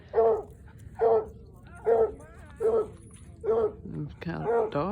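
Dogs of many sizes and breeds at an outdoor grass dog park in Quartzsite, Arizona bark and yip in a steady series of about six close, loud calls, ending with a higher whimpering yelp.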